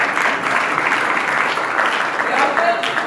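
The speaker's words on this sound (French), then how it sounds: "C'est le moment qu'on applaudit," Steady audience applause during a comedy routine at a Miss Kivu finale event, a dense even wash of many hands clapping throughout, fairly loud with no break.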